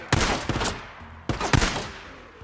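Two loud, close volleys of rapid gunfire erupt in the video game Days Gone, each a burst of several sharp shots separated by a short pause, with no talking.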